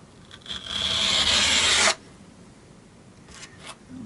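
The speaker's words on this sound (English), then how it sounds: "Try and scrape it down here a bit." A guitar fret on a Westone Concord 1 is scraped down by hand during a refret, a rising rasping stroke of about a second and a half, close and fairly loud, then quiet with faint small scrapes after.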